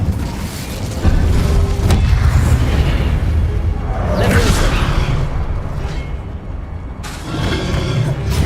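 An Incendio fire spell blast in Hogwarts Legacy: loud, close booms and whooshing fiery bursts over a dense rumbling background, with a bright swell of flame near the middle and another burst toward the end.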